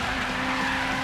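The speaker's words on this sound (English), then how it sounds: "Now hold the handbrake button and step on the gas" A car in the racing game DIRT 5 spins under the handbrake in a gymkhana run, giving a short, loud burst of skidding tyre roar and engine noise with no pause.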